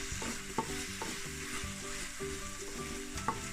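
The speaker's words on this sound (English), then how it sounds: "we're gonna just leave the apples to caramelize and cook soft" Apples caramelizing in a pan for apple fritter French toast, giving a steady sizzle with repeated stirring scrapes and a few sharper knocks, close and fairly quiet, with no talk.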